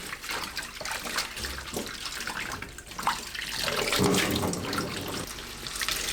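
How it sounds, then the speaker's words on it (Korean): Mallow leaves rinsed by hand under a steadily running kitchen tap, with water splashing continuously into a sink and occasional louder sloshes, close and fairly loud with no talking. "흐르는 물로 여러 번 헹궈서 녹색물이 연하게 나올 때까지 헹궈주세요."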